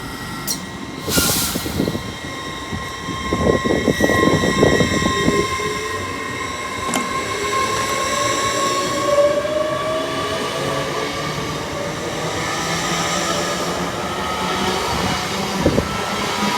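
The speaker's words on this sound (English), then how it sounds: "London North Eastern Railway with a 1246 from London King's Cross to Edinburgh" An LNER Class 801 unit, the 12:46 King's Cross to Edinburgh service, passes Newark Northgate station with a loud, close rolling rumble, a high electric whine and a brief horn near the start.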